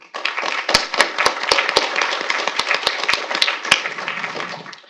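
Audience applause after a talk at a public event on international religious freedom, a close burst of many hands clapping that holds steady for several seconds, with sharp individual claps standing out.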